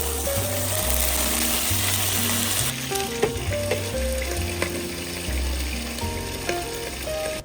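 Pork sizzles and crackles steadily in a hot frying pan, with occasional utensil scrapes and background music playing.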